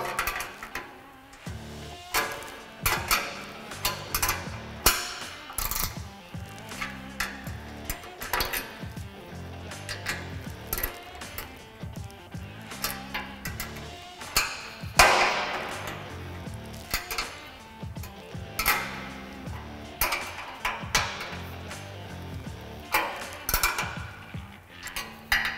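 A rack's inner bracket is tightened on a Polaris RZR 1000 Gen 2 side-by-side, with a long run of close metallic clinks, ticks and ratcheting clatter in an irregular rhythm.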